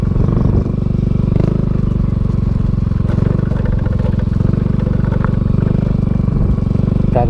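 A service motorcycle climbs a steep road in the Sto. Domingo highlands, its engine droning loud and steady close to the rider throughout, with some clatter and faint wind noise.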